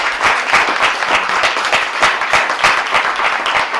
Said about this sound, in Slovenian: Za vas prosim z enim aplavzom